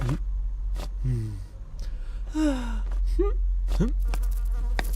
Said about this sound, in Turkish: Babası sineği öldürüyor.